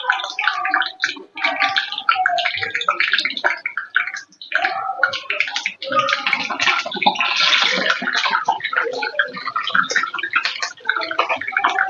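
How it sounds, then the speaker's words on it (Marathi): Water clinging to a wet strainer hits hot oil and erupts into loud, bubbling, spattering sizzles that come in irregular bursts close up, with brief dips between them and no talking. "गाळणीला पाणी लावल्यामुळं आवाज होतोय, कारण गरम तेलामध्ये पाणी चाललं ना"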